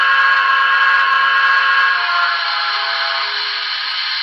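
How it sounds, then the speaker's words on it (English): A sustained chord-like steam whistle from a BLI T1 Duplex model steam locomotive sounds loudly for about four seconds, then fades slightly as it trails off, with no voices over it. "The whistle."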